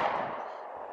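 A single gunshot fired at a shooting target rings out loud and close, a sharp crack trailing into a brief decaying echo over about a second.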